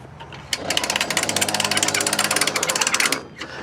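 A boat trailer winch on its high torque setting hauls a boat during a solo launch, a loud steady ratcheting clatter running about two and a half seconds before stopping.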